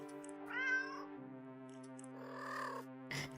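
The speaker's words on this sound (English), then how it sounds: "The sound of happy cats munching away at their fish fills your ears" Cats in an indie horror game give two drawn-out meows a couple of seconds apart, then a short sharp burst, over a steady musical drone, with no clear munching audible.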